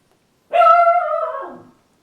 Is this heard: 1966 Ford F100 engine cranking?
no